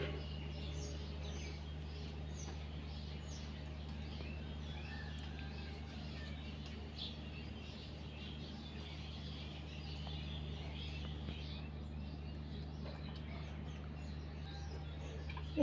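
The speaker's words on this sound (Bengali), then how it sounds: "চারদিকে পাখির কিচিরমিচির ডাক।" Faint, scattered morning birdsong from around a rural Bangladeshi homestead, thin chirps drifting in and out over a steady low hum, with no talking.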